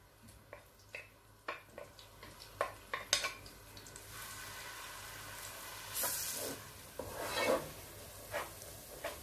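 Two large chopped onions softening in oil in a pot, a soft sizzle under a series of clacking stirs from a spoon against the pot, with louder bursts of frying hiss as the onions are turned; close and fairly quiet.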